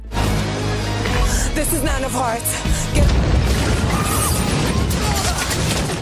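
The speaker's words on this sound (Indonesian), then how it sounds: "Tepat setelah ledakan terjadi, Rachel tersadar" A loud booming blast with crashing debris and a sustained roar, amid chaotic rumbling and scattered high-pitched noises.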